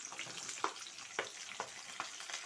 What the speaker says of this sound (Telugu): తర్వాత కొంచెం పెద్దగా తరిగి పెట్టుకుని ఆనియన్స్ వేసేస్తున్నాను.